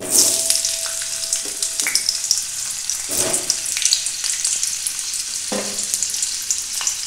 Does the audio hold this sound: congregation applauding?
no